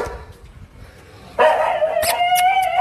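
A dog barks close by, several short sharp barks and yips in quick succession after a quieter stretch of background noise.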